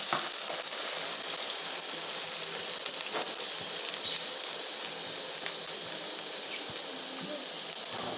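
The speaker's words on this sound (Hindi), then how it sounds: "प्याज बिल्कुल फ्राई कीजिएगा।" Finely chopped onions fry in hot oil in a pot for a village-style Bengali fish curry with potatoes, giving a steady, even sizzle throughout with occasional soft clicks and no voices.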